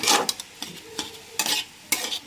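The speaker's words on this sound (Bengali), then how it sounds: "ভাজা মশলা সেটা দিয়ে মিশিয়ে দেব একটা পুর তৈরি হয়ে গেল আলুর পুর" Potato filling mixed with fried spices fries in a pan, soft sizzling broken by several quick scraping stirs at an uneven rhythm.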